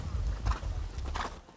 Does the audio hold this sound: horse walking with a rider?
yes